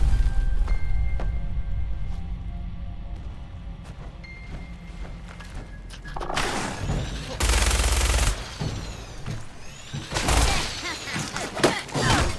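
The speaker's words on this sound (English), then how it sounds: "This is like 50 bullets in no time." Rapid gunfire erupts in a video game after a quieter stretch, a dense loud clatter of dozens of shots in fast bursts that swell and fade, with a person talking.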